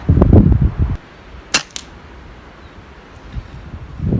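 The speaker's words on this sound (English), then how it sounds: "So the gun seems to shoot and feel pretty much similar to the Mark I." Two sharp, close shots from a gun about a second apart, cutting through a quiet pause, with someone speaking before and after.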